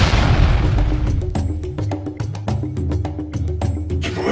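Handcuffs rigged to explode if removed go off in a loud, rumbling blast during the first second, followed by a run of rhythmic percussive booms over a steady musical drone.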